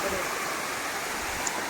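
Cold water from a mountain waterfall pours down in a steady, broad rushing hiss, continuous and fairly close throughout the short stretch.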